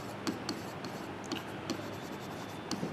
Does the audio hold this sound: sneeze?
no